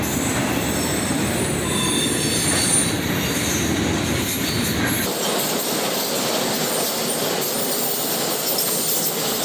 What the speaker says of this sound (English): There's even a cut of auto racks mixed in on this manifest train.